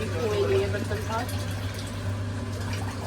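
Water poured into a vessel to soak onions for homemade dhaba-style vinegar onions, a continuous filling gush under a steady low hum while a person talks over it.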